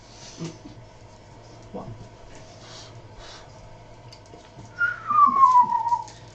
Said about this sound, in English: I just need to learn how to whistle.